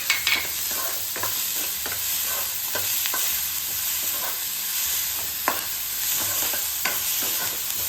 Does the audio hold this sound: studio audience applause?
no